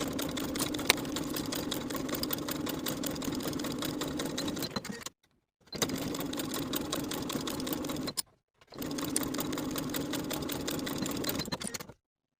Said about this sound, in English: Then we can sew our shoulder seams with a 1/2-inch seam allowance.